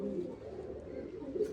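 Andhra pigeons coo close by in low, rolling murmurs, a couple of soft throaty calls rising over a steady hum of the flock, with no one talking.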